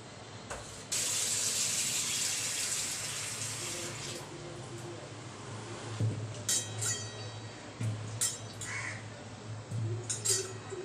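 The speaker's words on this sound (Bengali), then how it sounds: "এটা ভালো করে ধুতে হবে," Potatoes rinsed under a running kitchen tap to wash off sand, a steady hiss of flowing water with occasional clunks and splashes, fairly close, crows cawing faintly outside.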